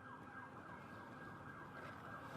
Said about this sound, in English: We can hear sirens